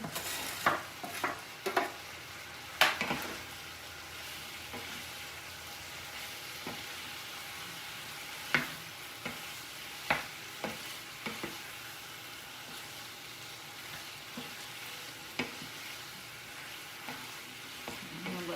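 Cooked potatoes fry in a skillet with beef and beans, a soft steady sizzle under repeated scrapes and clinks from stirring, some sharper knocks scattered throughout.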